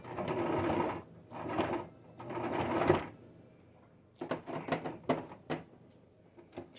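A domestic sewing machine finishing a seam on a fleece face, neck and ear warmer: three long, loud stitching runs, a pause, then a flurry of short, clipped bursts while it backstitches at the end.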